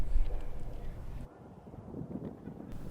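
Low, blustery wind at an outdoor high school baseball game buffets the microphone in heavy rumbling gusts that suddenly drop off, then swell back faintly.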